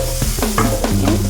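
Fried egg tadka is stirred in hot oil in a pan with salt. A close, rough scraping sounds in a few rhythmic strokes over a continuous sizzle, with no talking.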